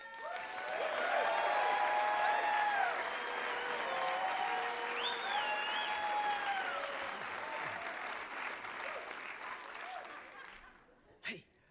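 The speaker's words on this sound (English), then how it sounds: "please put your hands together and give us a warm round of applause for Corr de Joch" Audience applause welcoming comedian Corr de Joch to the stage, a dense, sustained wall of clapping from a crowd with whoops and cheers mixed in, fading out near the end before a brief final burst.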